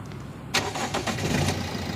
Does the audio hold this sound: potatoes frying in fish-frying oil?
no